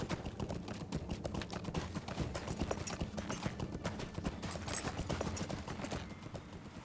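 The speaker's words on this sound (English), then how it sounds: "We have finished our long horse rides" Galloping hoofbeats from horse riding in the video game LOTRO (Lord of the Rings Online) pound in a fast, continuous rhythm, moderately loud and close, with no talking over them.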